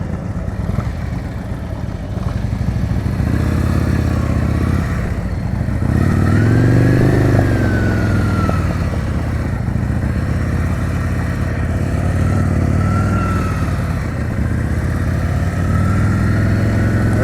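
A motorcycle rides at low speed through a slow-speed riding skills practice drill in Illinois, its engine rumbling steadily and close with slight revs and surges throughout, no talk over it.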